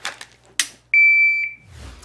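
A phone shot timer app gives a single sharp, high electronic beep lasting about half a second, clear and close in an otherwise quiet room, with faint clicks before it and a low rustle after.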